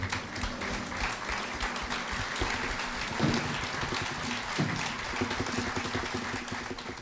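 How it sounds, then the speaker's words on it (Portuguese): A fado gathering's audience gives a standing ovation during a tribute, with dense, sustained clapping filling the whole stretch at an even, fairly loud level and a few heavier thumps mixed in. "eu pedi ao público que de pé apresentássemos uma calorosa salva de palmas"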